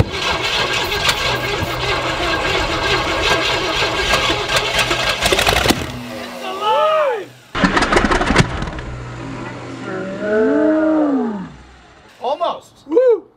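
A long-dormant Cadillac 500 engine cranks and catches into a loud, rough roaring run, then cuts out and is cranked again in bursts, with voices and whoops breaking in between.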